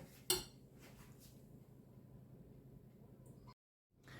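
Potatoes with dill and garlic are mixed in a bowl: one sharp clink of a utensil against the dish, then soft, quiet scraping and stirring that stops abruptly.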